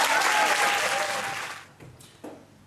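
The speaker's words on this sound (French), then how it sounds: "je vous demande un tonnerre d'applaudissements pour Marie" An audience at a slam poetry match claps loudly for a poet, a dense burst that fades after about a second and a half, leaving a few isolated claps.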